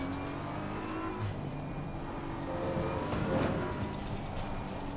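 GT3 race cars in Assetto Corsa Competizione on an American track run side by side into heavy braking, a steady engine drone with rising and falling revs and a faint tire squeal, no talk.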